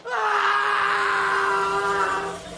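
A long, loud wailing scream from inside a forest holds steady for over two seconds and then fades, a single sustained cry with no talk over it.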